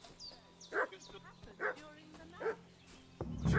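A dog barks in a medieval-set video game, three separate sharp yelps spaced evenly about a second apart, moderately loud, with a low thump and rumble at the end and no talking.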